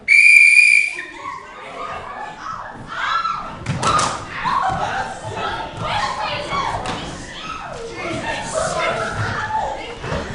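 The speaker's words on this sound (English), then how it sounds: "blow the whistle" A coach's whistle gives one loud, piercing blast at the start, then thuds, slams and chuckling follow as people move about and talk in a room.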